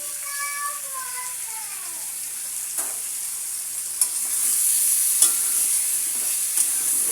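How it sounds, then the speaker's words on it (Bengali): Potatoes frying in oil with salt for mutton curry, a bright steady sizzle with a few sharp stirring knocks and scrapes, plus a faint tonal chime early on. "ভালো করে আমি আলুটা ভেজে নেব"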